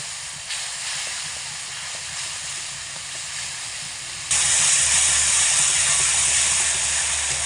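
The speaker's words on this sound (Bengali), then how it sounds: "সমস্ত কিছু একসঙ্গে খুব ভালো করে মিডিয়াম আঁচে কষিয়ে নেব" Spice paste with blended tomato frying in a pan on medium heat, a steady broad hiss and sizzle that swells louder partway through and holds, close and continuous with no talk.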